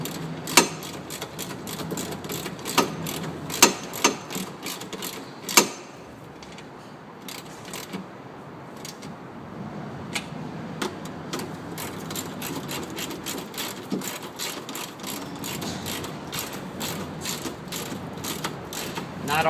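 A socket ratchet tightening a nut on a bike, quick clicking bursts of the pawl in short runs with pauses, close and fairly quiet, no talk.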